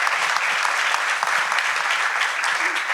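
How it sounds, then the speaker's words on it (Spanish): An audience at a women-leaders business talk claps steadily to welcome a guest, a dense, loud patter of many hands that keeps going without a pause for three seconds. "un fuerte aplauso y bienvenida, Ceci."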